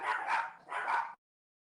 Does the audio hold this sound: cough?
no